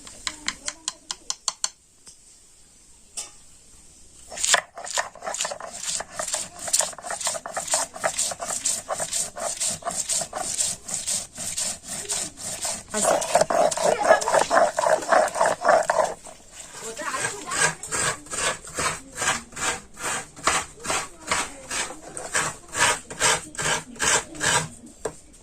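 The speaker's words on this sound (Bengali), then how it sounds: "এবারে এগুলো সব একসাথে শিলনোড়ায় বেটে নেব।" Chilies, black mustard seeds, coconut and salt are ground on a flat stone slab with a stone roller, producing long runs of rhythmic scraping strokes, close and fairly loud, with a brief pause partway through.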